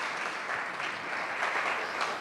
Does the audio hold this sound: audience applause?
yes